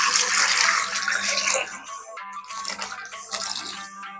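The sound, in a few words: water for soaking pumpkin stems and greens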